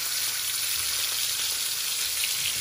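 Côte de bœuf tomahawk steak searing in a pan, giving a loud, dense, continuous sizzle and crackle close up that holds steady throughout, with no voices.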